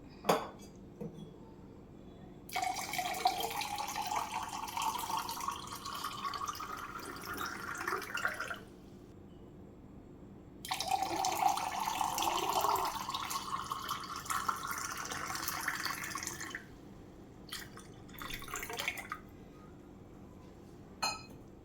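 Water pours into a container of raw mango drink in two long, rising streams, the pitch climbing as it fills, followed by a few short splashes and clinks.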